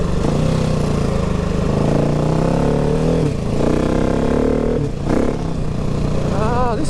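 A 2019 KTM 690 Enduro R being ridden with its quick shifter, the single-cylinder engine droning loud and close under wind rush, its note climbing and dipping through quick clutchless gear changes.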